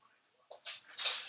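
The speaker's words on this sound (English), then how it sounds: "If y'all hear this noise, it's my two dogs." Two dogs, JoJo and Lilo, play rough nearby, giving soft scuffles, then sharp patters and scrabbling bursts that grow louder toward the end.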